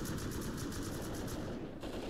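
Rapid automatic gunfire in the Rust video game, bursts of shots aimed at a roof during an online raid, fast and continuous, steady in loudness and with no voices over it.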